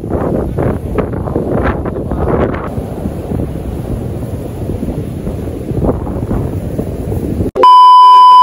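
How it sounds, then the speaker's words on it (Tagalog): Strong wind at the seaside roars and buffets the microphone in a loud, steady rumble for about seven seconds, then cuts off abruptly into a sharp electronic beeping tone. "Dito pa kami and sobrang lakas ng hangin dito"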